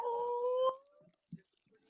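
A pit bull dog gives a drawn-out, rising whine or howl for under a second, with a brief faint sound afterward and then near silence.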